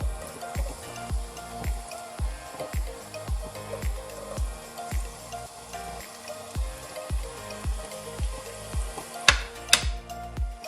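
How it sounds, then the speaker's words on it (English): Garlic sizzles in hot oil in a pan for a Bengali dry fish curry, a steady crackling fry broken by regular stirring knocks and scrapes, with a couple of sharper spatters near the end. "So the pan is hot now, so I'm just going to add the garlic"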